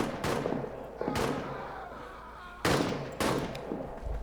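Suppressing gunfire in a trench warfare game, four sharp shots spaced unevenly over a few seconds with echoing tails, close and moderately loud.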